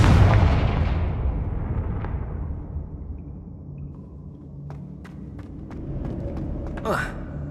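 Confringo blasting spell explosion in Hogwarts Legacy, a loud deep blast that rumbles and slowly decays, followed by a few scattered clicks and a rising whoosh near the end, with a voice speaking in between.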